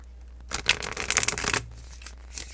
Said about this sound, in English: I'm constantly shuffling my cards.